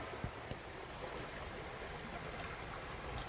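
River water runs steadily in a broadband wash on a hot summer day, a continuous even flow heard alone with a couple of faint knocks near the start.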